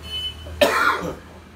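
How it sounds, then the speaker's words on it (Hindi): One harsh, throaty cough bursts out close to the microphone, trailing off over a moment in an otherwise quiet room. "बहुत खांसी हो गई है"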